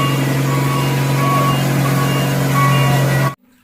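A toy concrete mixer truck emits a continuous electronic beeping and motor tone, loud and close, lasting about three seconds before stopping abruptly.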